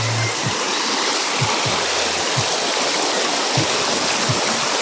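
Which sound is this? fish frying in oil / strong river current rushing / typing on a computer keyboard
strong river current rushing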